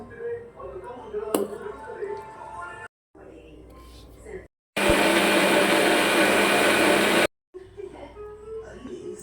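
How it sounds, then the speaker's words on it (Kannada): Mixer grinder whirring loudly and steadily for about three seconds as it grinds cooked greens, sambar powder and plain cooking water into a sambar masala, framed by quieter kitchen handling and talk before and after. "ಈಗ ಇಲ್ಲಿ ಸೆಪ್ಪೆ ರಸ ಹಾಕ್ಕೊಂಡು ರುಬ್ಕೊತೀನಿ ನಾನು"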